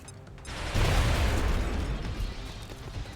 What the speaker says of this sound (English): You know what, screw it, just throw a grenade.